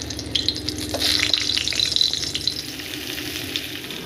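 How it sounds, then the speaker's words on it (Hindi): Potatoes shallow-frying in a spoonful of oil in a pan, with a steady close sizzle and crackle, occasional stirring scrapes and brighter pops throughout, no voices. "अब इसमें हम आलू फ्राई करते हैं। शैलो फ्राई करेंगे, डीप फ्राई नहीं करेंगे।"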